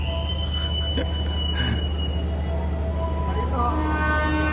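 A long passenger train rolls past on a Jogja–Malang trip, a steady loud rumble with metallic wheel tones and a faint horn-like whistle, sustained throughout under some background voices.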